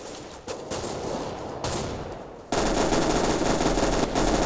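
Rapid automatic gunfire in the shooter game CS:GO, dense bursts of shots that swell into a louder unbroken barrage, close and harsh with no talk.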